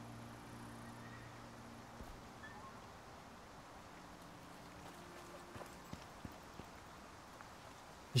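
Quiet horse sounds from the video game Icarus: soft clip-clop hooves and a faint whinny over a low ambient hum, with a few sharper clicks near the end.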